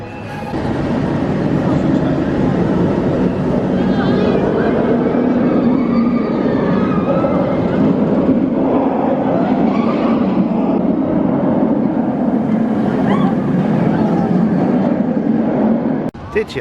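Steady loud rumbling roar of the Nemesis roller coaster ride at Alton Towers, continuous wind and track noise throughout with riders' voices blended in, cutting off abruptly at the end.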